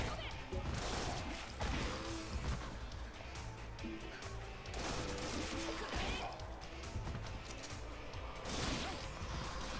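Rapid gunfire in the action game Onechanbara Bikini Samurai Squad, dense bursts of shots mixed with crashes and impacts, loud and continuous with a few sharper peaks across the stretch.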